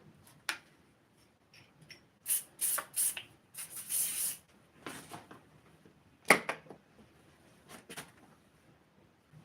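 Hairspray is sprayed onto a styled pixie-cut wig in several short hissing bursts with quiet gaps and rustling between them, fairly close and with no talking.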